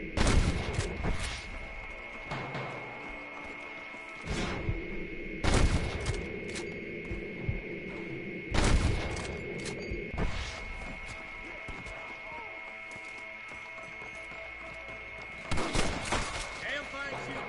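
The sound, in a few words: gunfire in a Red Dead Redemption shootout, from a video game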